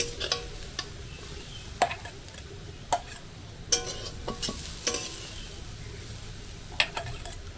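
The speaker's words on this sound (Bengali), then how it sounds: "একটু জাস্ট নাড়াচাড়া করে নেবো একদম হালকা করে ভেজে নিয়েছি" A vegetable momo filling fries lightly in a pan while a spatula stirs it, giving a low continuous sizzle broken by frequent sharp scrapes and taps at irregular intervals.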